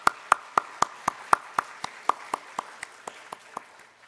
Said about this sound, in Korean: 우리 하나님께 영광 박수 올려드리겠습니다